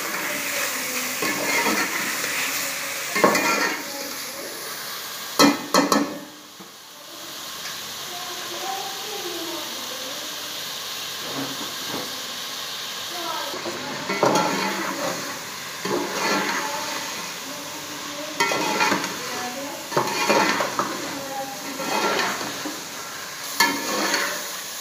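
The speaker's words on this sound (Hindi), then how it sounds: "अब इसमें हम जो है गोश्त वो डालेंगे और इसे 5 से 10 मिनट फ्राई करेंगे।" Meat, gosht for a chicken aloo biryani, fries in a pot with a continuous sizzling hiss broken by repeated stirring scrapes and clanks of a utensil, close and fairly loud throughout.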